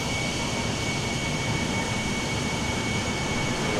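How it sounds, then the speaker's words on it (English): A Turkish Airlines Boeing 787-9 Dreamliner takes off for Istanbul, giving a steady, broadband jet roar that holds evenly throughout with no breaks and no voices. "Turkish Dreamliner now taking off"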